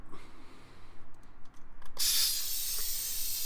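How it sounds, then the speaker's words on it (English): Air hissing out of a Toyota Tacoma tire through a valve fitting while airing down to about 24 psi, a broad steady hiss that bursts on after a few faint clicks and rustles, close and sustained. "You can hear the air coming out now"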